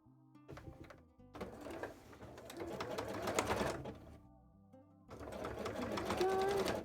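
Sewing machine set to zigzag stitch pushing through thick fabric, bursts of rapid mechanical stitching with short pauses between runs, close and clear.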